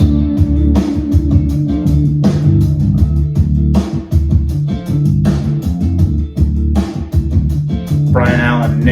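Guitar trio with bass playing a song intro: a full, loud band groove with strummed chords and a driving bass line, steady throughout, with a short bright harmonic flourish near the end.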